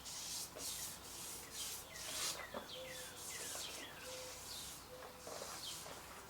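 A rag wipes excess finish off a wooden cabinet in steady, repeated rubbing strokes close by, with birds chirping faintly in the background.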